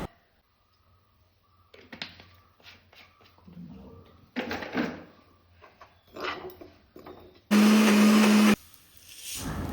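A mixer grinder jar whirs loudly for about a second as it grinds roasted grated coconut with coriander, chilli and pepper powders and water, following quieter kitchen clatter and faint background sounds.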